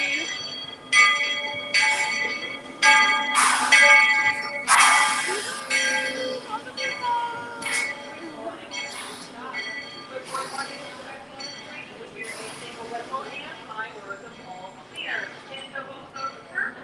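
A Magic Kingdom train at Disney World rings its bell in loud repeated strokes, with sharp bursts and hissing amid the clatter, heard nearby under people chatting.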